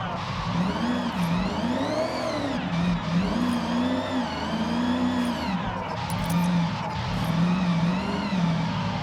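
A tuned Mitsubishi Evo IX drift car in the Forza Horizon 6 video game, its engine revving up and down in repeated loud, wavering surges as it slides, with a whining tone on top.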